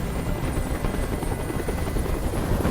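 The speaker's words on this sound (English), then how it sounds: "Tell that helicopter to get out of here." A helicopter hovers in Detroit: Become Human, its loud, continuous rotor thrum and engine roar filling the scene steadily with no pauses.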